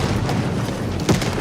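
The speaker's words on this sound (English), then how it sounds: "and there was a large explosion." Explosion at the Husky Superior Refinery, a dense low roaring rumble throughout with a brief louder boom-like burst near the end, no voices present.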